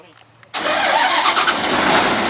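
A stuck 8060 rice harvester, bogged in a muddy hole in a paddy field, fires up abruptly after a quiet moment; its medium engine catches and holds a loud, steady rumbling idle to the end.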